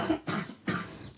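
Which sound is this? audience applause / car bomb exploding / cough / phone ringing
cough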